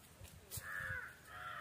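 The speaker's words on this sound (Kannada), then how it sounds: "ಕಾಗೆ ಬಂದು ಕೂಗ್ತಾ ಇದ್ದಾವೆ" Crows gathered near a house give two drawn-out, harsh caws, the second overlapping the first, at moderate distance with faint outdoor background.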